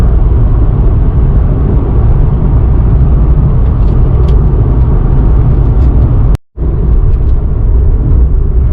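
Nissan 370Z base coupe with automatic transmission accelerating hard, a loud steady engine and road roar filling the cabin, briefly cut out for a moment before resuming.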